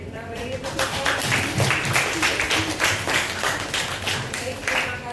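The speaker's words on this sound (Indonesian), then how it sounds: "kita beri tepuk tangan" Applause from an audience at an academic supervision coaching session: dense, steady clapping from a crowd, sustained and fairly close throughout, with no talk over it.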